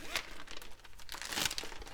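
A plastic Ziploc bag crinkling and rustling up close as cut potatoes are dropped in, a couple of brief loud crackly bursts.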